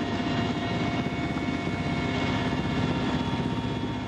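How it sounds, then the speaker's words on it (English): A Russian helicopter in flight gives a steady, loud engine drone with a pulsing rotor beat, continuous and unbroken throughout. "Bernie Hassenbein is in the door of this Russian helicopter"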